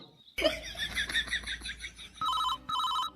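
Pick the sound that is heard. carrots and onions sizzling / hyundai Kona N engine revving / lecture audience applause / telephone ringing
telephone ringing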